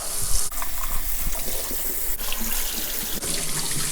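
Warm water gushes from a kitchen tap over boiled pork being rinsed in a sink, a loud close stream with brief breaks and shifting splashes as the meat is moved.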